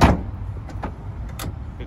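A power side step on a JDM Mitsubishi Delica van retracts, a brief electric motor whir with soft mechanical clicks following a sharp thump at the start, close and fairly quiet.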